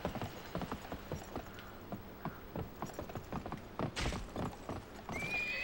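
Rapid, steady hoofbeats of a galloping horse in the video game Gun, with a short whinny and some mechanical clicking near the end.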